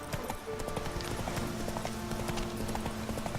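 Hooves of a wild horse in The Witcher 3 clip-clop in a steady galloping rhythm, close and continuous, with a faint horse whinny mixed in and no talking.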